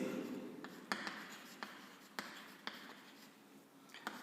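A teacher writes on a board during a physics lesson, with a series of sharp, separate taps and scratches at irregular intervals, close and fairly quiet, with no speech.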